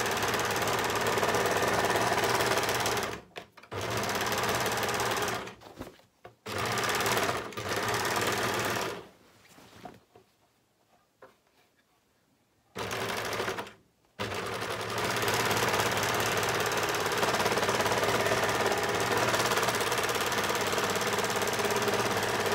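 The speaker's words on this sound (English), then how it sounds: "I'm just going to run the overlocker along the bottom and along the side of these raw edges" An overlocker runs along raw fabric edges while making scrub bags, a fast rattling machine drone in several close bursts separated by short pauses, the longest run continuing steadily at the end.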